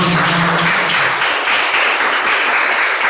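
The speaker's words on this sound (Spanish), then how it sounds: "Dale fuerte aplauso al Señor." Loud, dense applause from a church congregation fills the whole stretch, continuous and close, with a brief voice at the very start.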